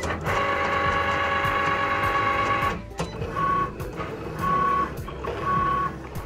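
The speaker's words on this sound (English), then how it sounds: "When the Go button flashes, press the button and watch your Cricut machine do its thing." A Cricut cutting machine works through cardstock paper, whirring with a steady motor hum and high whine, then moving in short repeated bursts with brief pauses as the carriage shifts, close and fairly loud, with no voices.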